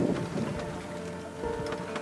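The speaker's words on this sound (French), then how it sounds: "Il y a du vent." Steady, loud wind rushes and buffets a sailboat heading out from the port of Saint-Mandrier under sail. Water noise runs beneath it without a break, and no one speaks.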